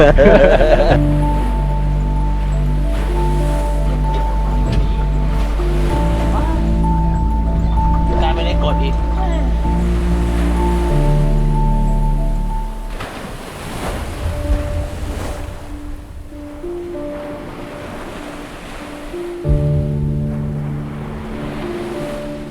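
Strong sea wind gusting across the microphone by the shore under a hot sun, a loud continuous roar and rumble mixed with wave noise and steady music, easing partway through before rising again.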